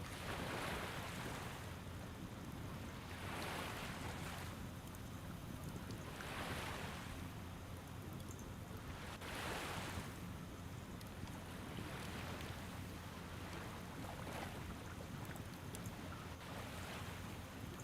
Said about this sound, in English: we'll listen to the waves for a minute